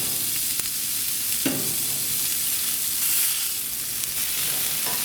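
Cheese-stuffed Kransky sausages wrapped in bacon heat on a barbecue grill with a steady, close hiss and sizzle, crackling at a few points along the way.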